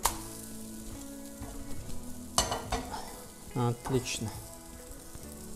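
Zucchini fritters are flipped in a frying pan, giving a soft, quiet sizzle broken by a few sharp clatters and scrapes of the spatula, while someone speaks briefly.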